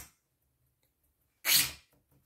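A congested child with a cold sneezes once, a single sharp burst close by after near silence, with faint room noise around it.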